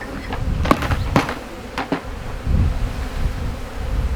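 Honeybees buzz in a dense, steady hum, punctuated by several sharp knocks and thumps nearby, as cups of bees are shaken into Apidea mating nucs and the lids closed.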